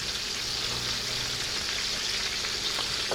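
Food sautés in a pan with a steady, close hiss of hot oil and faint crackles, constant in level from start to finish, with no voices.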